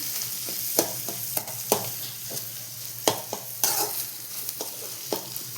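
Eggs scramble in plenty of salted oil in a pan, a continuous close sizzle broken by repeated sharp scraping and clattering strokes of a spatula stirring the crumbled egg, with no voices.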